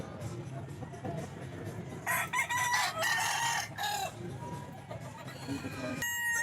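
Bulik roosters at a busy pet market crow loudly in a burst of several overlapping calls mid-way, with clucking and crowd murmur around them and another crow starting near the end.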